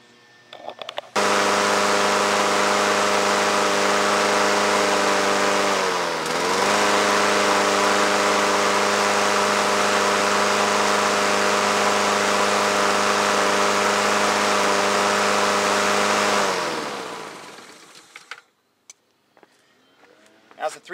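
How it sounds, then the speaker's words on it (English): A small engine, Honda, Briggs, Tecumseh or Kohler type, idling steadily at low RPM after a governor adjustment, a loud continuous hum that holds for about fifteen seconds, dips briefly, then shuts down and fades away. "Start it up and see where the engine's sitting."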